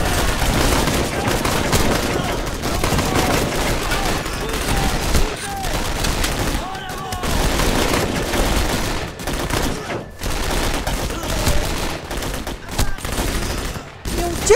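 Rapid gunfire bursts from a war video game set in Dien Bien Phu, loud and nearly continuous with sharp cracks and brief pauses throughout.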